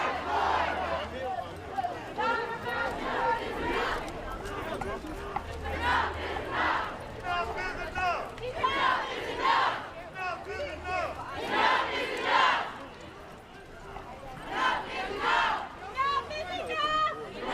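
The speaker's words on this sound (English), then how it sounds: "The event organizers are leading the assembled crowd in chants." Protest crowd chanting in unison at a George Floyd march in Red Bank, rhythmic call-and-response phrases rising and falling in repeated bursts, loud and close at the front of the march with general crowd murmur beneath.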